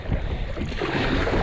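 A solo kayak on the Susquehanna River meets waves head-on, giving a close, continuous wash of splashing water and wind buffeting the microphone, with no voices.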